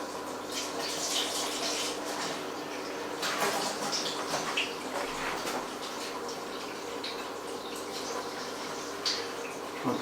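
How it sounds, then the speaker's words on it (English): Water spraying and rinsing down the inner walls of a BrewZilla Gen 3.1.1 brewing vessel, a steady close hiss of running, splashing water with occasional brief clunks, fairly quiet, with no talk. "I'm just going to rinse down"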